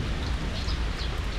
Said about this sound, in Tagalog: Pahina-hinain ko lamang yung ulan dahil napakalakas ng ulan.